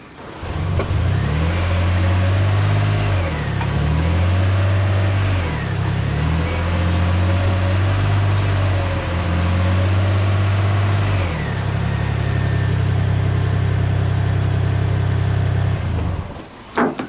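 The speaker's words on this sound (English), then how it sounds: "Not really much of an exhaust note because this is a hybrid and it has a pretty low rev limiter" A 2011 Lexus RX450h hybrid with a 3.5 liter V6 runs with a smooth, subdued engine hum that rises and falls through several mild revs, then holds a steadier higher drone, heard close and fairly loud.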